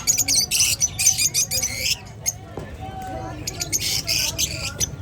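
Java sparrows, fawn and opal breeder pairs, chirp and squeak in bursts of sharp, high tweets, loud and close, with a brief quieter gap midway, over a steady low murmur of background noise.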